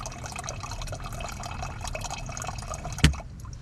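Tea drains steadily from a container, a continuous liquid trickle and splash running throughout, with a brief sharp clunk near the end before it quiets.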